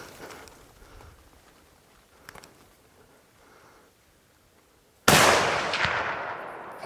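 A rifle shot during a moose hunt in Idaho rings out loud and sharp near the end, with a long fading echo after quiet breathing and rustling.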